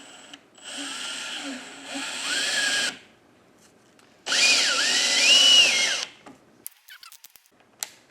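Power drill whirring in two separate bursts while drilling a dowel hole, its motor pitch rising and falling, with quiet pauses between and a few light clicks at the end.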